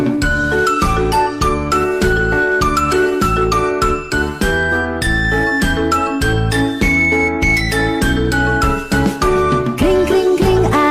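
Bright tinkling bell-like jingles ring repeatedly over a loud, bouncy children's song with a steady rhythmic beat, the chimes playing continuously through the music.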